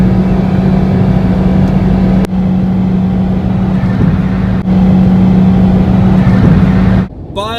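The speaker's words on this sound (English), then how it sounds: "For a small car, the Cube also makes a lot of noise. Now part of that is due to the CVT transmission." A Nissan Cube with a CVT transmission gives a loud, steady engine drone with a continuous low hum and a whine on top. It holds at an even level inside the cabin throughout, with a brief dip near the end and no speech.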